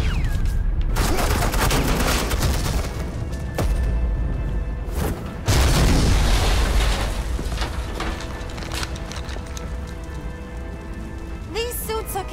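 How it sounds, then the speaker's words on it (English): Suppressing gunfire in Batman: The Enemy Within, a dense, sustained rattle of shots that fills the whole clip with loud, continuous crackling bursts and a heavy thump midway. "They're gonna start shooting at us?"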